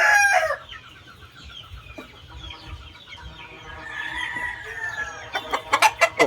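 A very large rooster, about nine to ten months old and of Boston and Golden Boy gamefowl lines, crows loudly up close at the start. Softer clucking follows, then a rapid cluster of sharp calls near the end.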